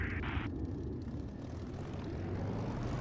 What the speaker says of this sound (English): Spitfire departing runway 8